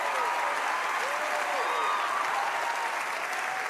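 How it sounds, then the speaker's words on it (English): A roomful of people applauding and cheering at a stand-up comedy show, a steady distant roar of clapping with scattered whoops rising above it, continuous throughout. "This is where you guys should applaud and go crazy."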